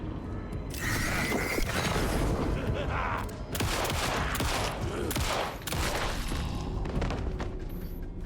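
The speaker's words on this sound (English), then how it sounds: "Three shots to the face." Gunfire from the survival horror video game Alan Wake II, with three shots fired inside an office, each one sharp and loud. The shots sit over a dense, busy game soundscape, and a voice talks over part of it.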